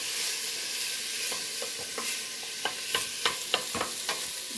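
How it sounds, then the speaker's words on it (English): Onions cooking down in a pan, a steady broadband sizzle with a series of sharp scraping knocks from a spoon stirring them, clustered in the second half; no voices. "I just want to give this a little stir so it can cook evenly"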